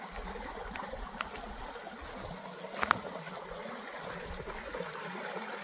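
A small river after tree clearing trickles and flows gently in the open, a faint steady watery wash with a few soft splashes and knocks, distant and even with no talk.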